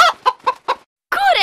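A hen clucks close by in four short, evenly spaced bursts, then after a brief pause gives a longer, louder squawk.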